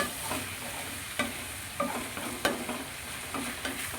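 Two cut tomatoes sautéing in a pan for a Kerala-style roasted-coconut chicken curry: a faint, low sizzle broken by a few distinct spatula clicks and scrapes, close and quiet.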